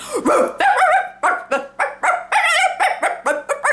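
A person vocally imitates neighbor dogs barking erratically, a loud rapid string of about a dozen yelping, wavering barks with no steady rhythm, alone and close.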